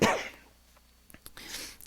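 A single sharp cough bursts out at the start and fades, followed by a few small clicks and a softer breathy burst near the end, with no talk over it.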